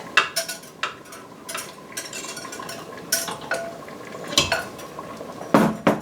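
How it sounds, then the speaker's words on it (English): Utensil stirring food in an Instant Pot pot for honey garlic chicken, with repeated metallic scrapes and clinks against the pot at an irregular rhythm, close and fairly loud. "Okay, we gotta stir it up."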